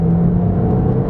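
Porsche 911 996 entry-level rear-mounted engine revving up, a loud steady whirring rumble with a strong low tone that holds throughout, close and alone without talk.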